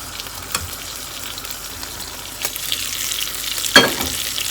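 A Cuban sandwich toasting in a hot pan, with a steady soft sizzle and a few brief scraping clatters, the loudest near the end.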